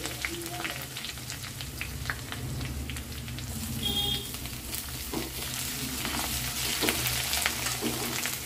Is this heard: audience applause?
no